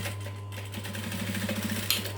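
A domestic sewing machine top stitches a fabric wristlet pouch, a brief quick run of rhythmic needle clatter over a steady motor hum, close and fairly quiet.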